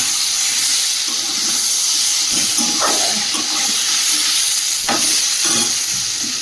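Eggs tossed into potatoes frying in a pan, giving a steady hiss and sizzle of hot oil with a few soft stirring scrapes and clinks, close and continuous.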